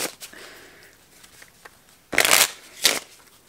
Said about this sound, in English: And shuffle, of course. Shuffle, shuffle.